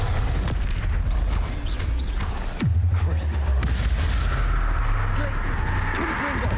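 Bombarda explosion spell blasts in Hogwarts Legacy, loud booming impacts with a sharp deep thump near the middle amid dense battle noise.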